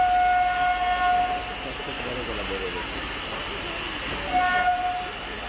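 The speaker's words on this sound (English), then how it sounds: "The 1341 from Cornegliano arrives formed of an Alstom-built Minuetto DMU." An Alstom-built Minuetto diesel multiple unit pulls into a station in Italy, a steady mechanical rumble and rolling rail noise with a sustained high whistle-like tone at the start and again near the end.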